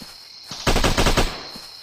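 Automatic gunfire from a weapon in the Siren Head video game, one loud rapid burst of closely spaced shots lasting about half a second, heard over a faint steady background tone.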